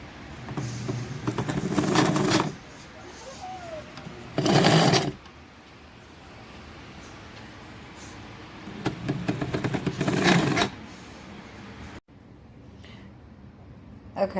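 A Kenmore 117.552 rotary sewing machine runs in short bursts, its motor whirring and clattering with a squeak, near and moderately loud, separated by quieter pauses.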